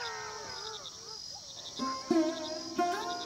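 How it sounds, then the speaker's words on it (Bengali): Crickets chirp continuously from a distant sal forest at dusk, a faint steady high trill running as a sound effect beneath a narrator's spoken horror story. "অনেক দূরে শালবনের ভেতর থেকে ঝিঁঝি পোকার একটানা ডাক ভেসে আসছে।"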